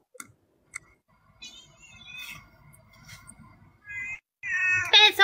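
A cat meows a few times near the end, with a short run of bright, tonal mews rising over soft background rustling and faint movement in a quiet room.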